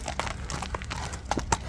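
A horse's hooves clip-clop in quick, uneven beats close by, sharp knocks standing out over a constant low rumble of outdoor background noise.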